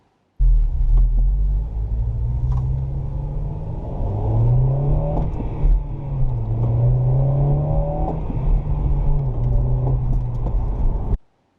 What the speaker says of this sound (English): the fifth thing I hate about this car is the notorious rev hang.